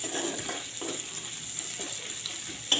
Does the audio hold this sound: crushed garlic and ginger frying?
yes